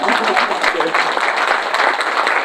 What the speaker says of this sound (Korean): 큰 박수 쳐드리겠습니다